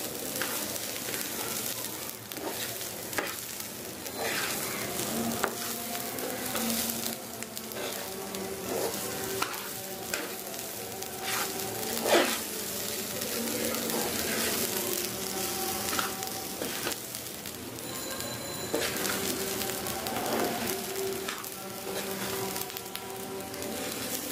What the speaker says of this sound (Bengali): চালগুলো ফ্রাই প্যানে ভেজে নিচ্ছি।